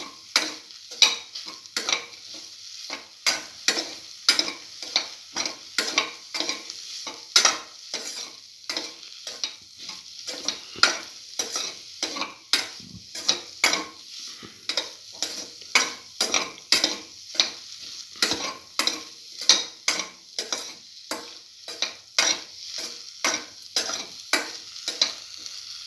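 Food with salt is stirred and mixed in a pan, a spatula scraping and tapping in a steady repeated rhythm over a soft sizzle, close and alone with no talking.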